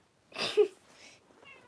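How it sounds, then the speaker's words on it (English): A pet cat lets out a short nearby meow, followed by a softer trailing sound, with quiet pauses between. "That is my cat."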